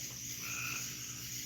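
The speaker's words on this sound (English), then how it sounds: "I hear frogs now" Frogs croak in a steady, continuous outdoor chorus, fairly distant and even, with insects faintly in the background.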